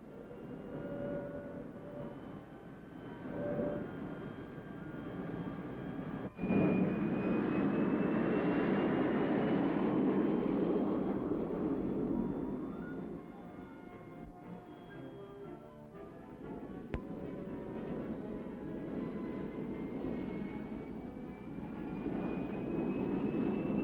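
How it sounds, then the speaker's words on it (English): The 1953 General Motors Firebird XP-21 gas turbine car spins up with a rising starter whine, then a steady, loud turbine roar as the engine lights and runs, with a sharp click partway through. "The starter begins to whine, the engine comes to life"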